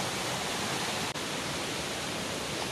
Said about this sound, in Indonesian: sebelah kanan ini ada aliran airnya nih